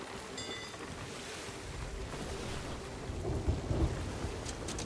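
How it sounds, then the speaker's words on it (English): Thunderstorm at sea in the Sea of Thieves video game, with rolling thunder, wind and crashing waves around a sailing ship, a steady moderate wash of storm noise with a few heavier rumbles. "This storm is not going to be good"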